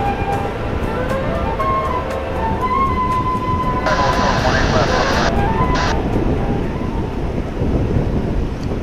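A UPS cargo plane passes overhead at DFW Airport, its broad roaring rumble steady and loud throughout, while someone talks over it and brief tonal radio-like bursts cut in.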